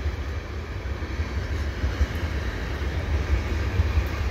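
Freight train cars rumbling past at Dorval, a steady low rolling drone with faint rail clatter, continuous and fairly close, with no voices.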